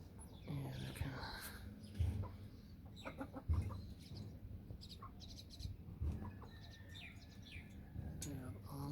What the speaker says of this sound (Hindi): ये देखें जी, ये बड़ा मुर्गा और इसके साथ हमने 4 मुर्गियां लगाई हुई हैं।